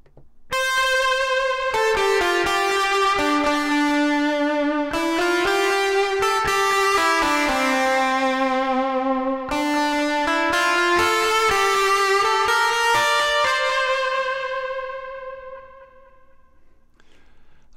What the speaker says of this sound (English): And with a little echo and reverb,